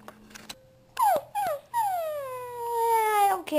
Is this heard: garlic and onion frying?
no